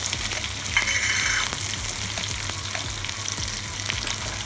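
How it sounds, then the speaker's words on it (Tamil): Curry leaves and onions sizzle steadily in hot oil, tempering for an Udangudi-style fish curry, a loud close crackle with a brief burst of spatter near the start and no voices. "கொஞ்சம் கருவேப்பிலை போடுறேன்"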